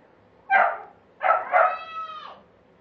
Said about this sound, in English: I have a brand new puppy that thinks that everything that my other dog has should be hers. So she keeps barking every time she